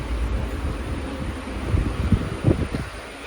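Interior of the Amrit Bharat Express on its inaugural Santragachi–Tambaram run: a steady low rumble of the moving train with a few soft knocks and thuds, continuous and moderately loud, with no talk.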